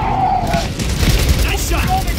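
Gunfire in the video game Gears of War 4 crackles in dense, rapid bursts through a busy battle mix, with shouted voices over the shooting.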